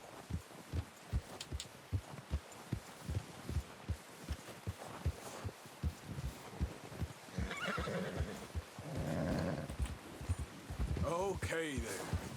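Rhythmic hoofbeats clop steadily, then a horse snorts and whinnies loudly toward the end in Red Dead Redemption 2, all at a low, somewhat game-like level.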